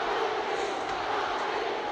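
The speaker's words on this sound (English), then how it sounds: "And you can hear the chant in the background." A packed arena crowd of more than 21,000 at Madison Square Garden, at the 1974 Muhammad Ali vs Joe Frazier fight, roars in a steady, dense wash, with a rhythmic chant for Ali rising faintly inside the noise.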